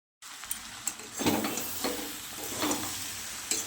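Peas for an aloo matar curry fry in a pan, starting after a brief silence and then sizzling steadily. Repeated stirring scrapes rise above it at intervals.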